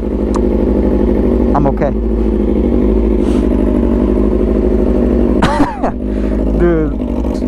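A Yamaha R6 sport bike with an open, unbaffled track exhaust idles loudly and close by, a rough, throbbing low rumble with a couple of short throttle blips and a brief voice over it.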